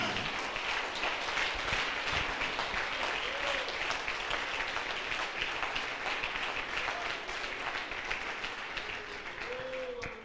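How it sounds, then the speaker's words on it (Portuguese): Sustained applause from a large church congregation, steady and dense throughout, fading slightly near the end, with faint voices mixed in. "Aplausos."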